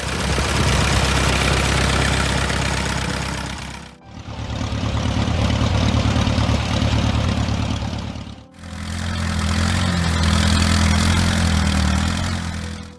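A Case VAC tractor engine runs loud and close in three steady stretches, each rumbling with a knocking idle beat and separated by brief dips.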